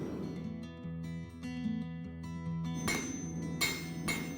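Hammer blows on hot steel at a blacksmith's forge: ringing, metallic anvil tones sustain throughout, with a few sharp, loud strikes landing near the end.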